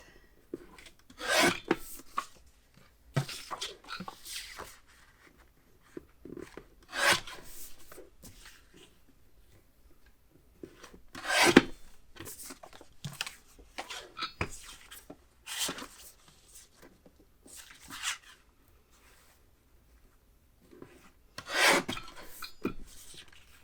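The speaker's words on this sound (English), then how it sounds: "So I'm going to trim these down to about 4 1/8 and 3 1/8" Blue paper being trimmed down to small panels for a 4x6 mini album, heard as a series of separate dry rasping, scraping strokes of moderate loudness with quiet gaps between them and no talking.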